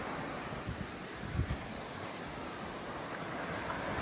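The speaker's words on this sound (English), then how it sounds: "A lot of water down there." A large volume of river water rushes below Oykel Bridge in the Scottish Highlands, a steady broadband roar with some wind buffeting, heard from above.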